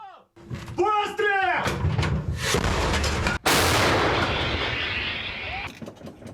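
Artillery opens fire in a wartime setting with two heavy booms, the second a sharp, loud blast followed by a long rumbling roll, while someone speaks over it.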